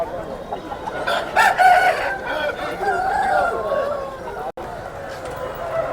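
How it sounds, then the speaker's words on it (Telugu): Chickens crow and cluck close by at a busy weekly market, with people chattering and calling around them throughout. "కోళ్ళు అయితే కట్టేస్తున్నాయి."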